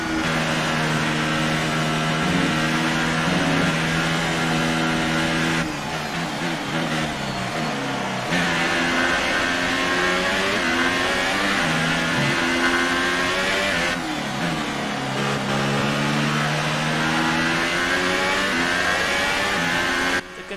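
F1 racing car engine on a qualifying lap in the F1 2018 video game, running on intermediate tires in damp conditions: a loud, continuous high-pitched whine that climbs through the gears, with short dips at shifts and braking, heard alone and up close.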